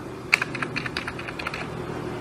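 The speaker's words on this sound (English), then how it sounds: "this is the main keyboard" Typing on the main keyboard of an Acer laptop under repair, a quick run of light, close plastic key clicks in an irregular rhythm, with one sharper tap near the start, over a faint steady hum.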